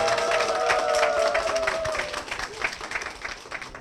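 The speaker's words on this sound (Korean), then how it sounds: "여러분 힘차게 큰 축복의 박수" A church audience claps in loud, dense applause that builds a warm, crowded wash of hand claps. It then thins and fades over a few seconds.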